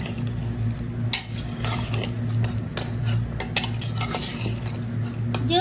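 A utensil stirs a little ghee into mutton curry in a pot, making repeated scraping clinks against the metal over a steady low stove hum.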